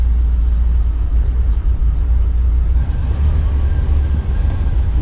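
A 1989 Dodge D250 truck idling loud and close as it is put into drive, a steady low engine rumble that holds even throughout.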